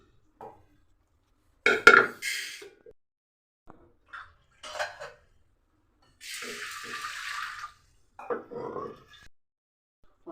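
Lentils for dal being rinsed in a kitchen: a few bursts of clinking vessel and cutlery knocks, a longer stretch of running, swishing water midway, then more splashes and scraping, all close with quiet gaps between.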